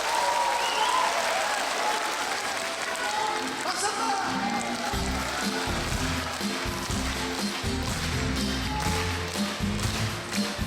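Outdoor concert crowd in a Seongnam park claps steadily and loudly, a dense sustained patter, while low rhythmic musical tones begin underneath partway through.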